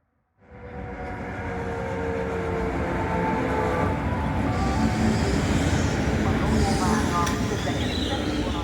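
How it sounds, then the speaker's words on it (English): An intercity train in Hungary rumbles in from a distance, its steady roar building and holding, with a faint high whine and brief squeal near the end. "just appearing in the distance is our train, operating an inbound intercity service from Budapest"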